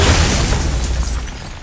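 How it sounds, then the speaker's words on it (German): A crystal shot and shattering in God of War, heard as a loud, booming burst with a crackling, breaking rush that fades over a second or so. "Ich habe auf den Kristall geschossen"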